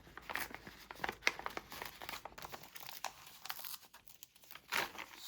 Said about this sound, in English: I'm going to take some scissors and just literally stab a little hole, and we're going to create a torn circle